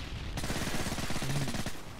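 Rapid automatic gunfire from the Modern Warfare 3 video game bursts in suddenly and rattles on loudly, dense repeated shots in a fast steady stream with a faint background hum, no talking.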